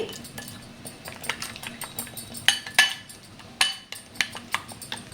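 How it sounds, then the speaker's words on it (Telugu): A metal spoon stirring masala in a pan, with repeated scraping and sharp clinks against the pan at an irregular rhythm, close and clear with no talking. "ఇలా స్పూన్తోనే బాగా కలిపేసుకోవాలి"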